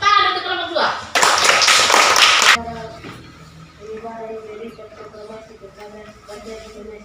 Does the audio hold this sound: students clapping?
yes